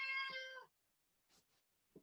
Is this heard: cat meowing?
yes